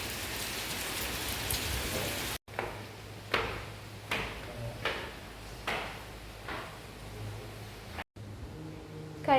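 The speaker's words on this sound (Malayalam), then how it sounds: "ഇവിടെയും നല്ല മഴയാണ് കേട്ടോ." Steady rain falls on a surface in Koyilandi, Calicut, a continuous hiss with a few louder knocks or thumps breaking through at intervals; no one speaks.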